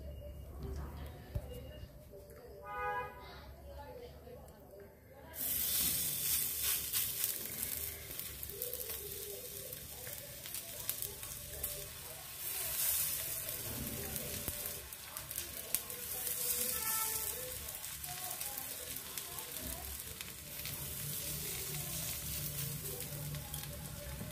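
Chickpea snack patties fry in oil on a hot tawa with a steady, dense sizzle and crackle that swells after the first few seconds, while a voice is briefly heard near the start.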